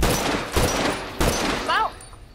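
Gunfire in the video game The Last of Us, a few loud close bursts of shots spaced apart, with a short voiced exclamation near the end.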